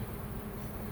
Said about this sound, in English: Until the whole box will be covered with bees.